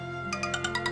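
A phone ringtone plays briefly and fairly quietly, a quick series of about six bright repeating electronic tones in a steady rhythm.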